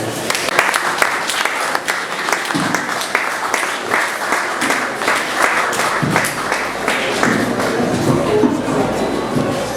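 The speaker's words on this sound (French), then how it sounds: "Sous vos applaudissements, s'il vous plaît" Guests at a civil wedding ceremony break into loud, sustained applause, with sharp individual claps and cheers scattered through a thick, steady round of clapping that never lets up.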